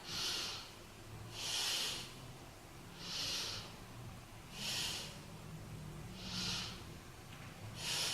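Slow, deep breaths during a yoga pose, five airy exhales spaced evenly about every one and a half seconds, close and fairly soft against a quiet background.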